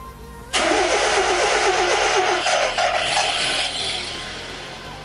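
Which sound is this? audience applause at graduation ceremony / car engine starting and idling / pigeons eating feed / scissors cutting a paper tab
car engine starting and idling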